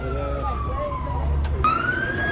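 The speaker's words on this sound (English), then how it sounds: "I hear sirens going everywhere" Police sirens wail and sweep up and down at a Los Angeles car meet, a long descending tone followed by a sharp rising whoop, loud and close over a dense crowd-and-engine rumble.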